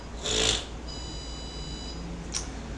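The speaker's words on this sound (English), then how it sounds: "I'm cooking chicken. That's the timer." A kitchen timer goes off while chicken cooks: a thin, steady electronic ringing tone lasts about a second, with a short noisy burst before it and a small sharp tick after it in a quiet room.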